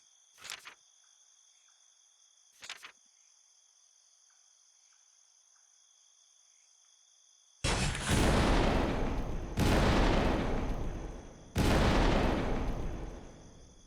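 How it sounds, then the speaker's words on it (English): Heavy ship cannon blasts in the video game Granser, three loud booming volleys with rolling tails spaced about two seconds apart, following a quiet stretch of insect-like chirps and two faint clicks. "Is it just me, or is the ship aiming its cannons at us?"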